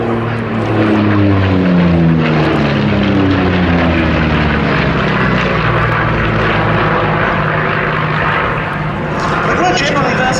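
Propeller engine drone of Yak-3 and Yak-9 fighter aircraft at the Duxford Battle of Britain airshow, a loud continuous roar with shifting pitch as the planes pass, alongside a voice talking over it.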